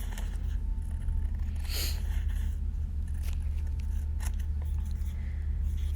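Scissors trimming the edges of origami paper for a folded finger puppet, a brief crisp snip near the middle over a steady low hum, with a few fainter cuts and paper handling around it.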